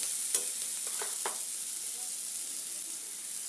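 Kofta curry masala stirs and fries in a pan with a steady, soft sizzle, and a few light scrapes of the spoon rise briefly above it near the start.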